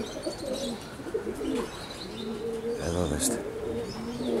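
White pigeons from a family loft coo softly in a steady, low, murmuring pattern. The coos sound fairly distant and faint under a voice and general outdoor noise.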